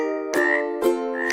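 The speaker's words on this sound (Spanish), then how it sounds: "la rana hace" Frog croaks in a children's animal sounds song: two loud, clear, tonal croaks about half a second apart, standing alone with no talk.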